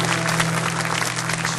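Church congregation at a youth worship service clapping in a thick, continuous burst, loud and close throughout, with a low steady hum beneath and hardly any talk.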